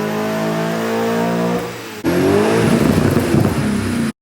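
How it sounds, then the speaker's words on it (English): A tuned BMW E39 M5 V8 engine revving: a rising harmonic rev that drops off, then after a brief gap a loud, rough, crackling burble from the exhaust before it cuts out abruptly. "Just a little burble on sport mode."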